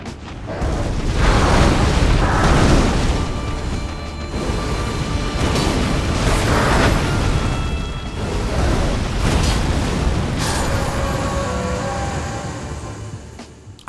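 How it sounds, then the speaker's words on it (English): Taker's Flame explosions in the video game Elden Ring, a loud, sustained roar of heavy booms and crashing blasts that swell and overlap for the whole stretch, with no voices. "we have the power of the Taker's Flame to destroy huge enemies or bosses"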